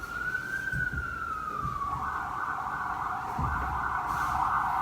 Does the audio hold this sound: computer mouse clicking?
no